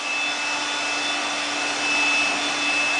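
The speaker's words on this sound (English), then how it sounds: "You can take your vacuum, turn it on, and just dust it." A vacuum cleaner runs steadily up close while dusting an air purifier, a continuous broadband whir with a faint high whine and no pauses throughout.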